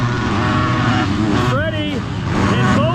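Motocross dirt bikes rev hard at the starting gate in a simulated race video game, a dense, loud engine roar with rising and falling pitch sweeps while a commentator talks over it.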